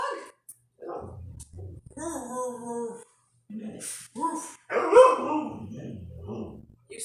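A tiny dog barks and yips in short, sharp bursts close by, with whimpery high notes between them, while a person talks to it over the barking.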